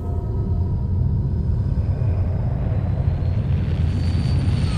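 A futuristic craft takes off in an audio drama, a dense rumbling engine roar that swells steadily while a thin whine rises above it, with no voices.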